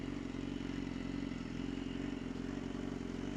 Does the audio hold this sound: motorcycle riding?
yes